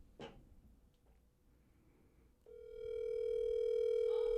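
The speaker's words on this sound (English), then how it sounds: "It's ringing." An outgoing phone call rings back with a steady, loud tone that starts abruptly partway through and holds, after a brief faint stretch of low background noise and a short knock near the beginning.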